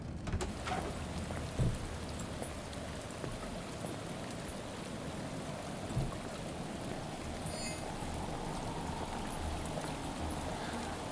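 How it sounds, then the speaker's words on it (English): Steady rain effects in the Shadows of Doubt video game, a dense continuous patter of rain on surfaces with a few louder drops and no voices. "I'm really pleased with the rain effects we've got."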